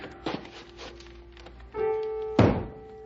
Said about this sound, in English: Maybe if I bang on the ceiling, he'll take the hint and go play ball or something.